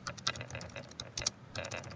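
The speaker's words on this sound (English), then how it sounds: "my typing is not too good tonight" Irregular clicking of keys on a computer keyboard, a quick burst of several taps with short pauses, fairly close and moderately quiet.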